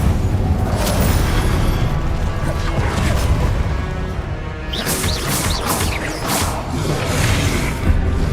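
Incendio fire spell cast repeatedly in Hogwarts Legacy, a dense roaring burst of flame and impact crashes with whooshing swells, loud and continuous, with a few rising swishes toward the end.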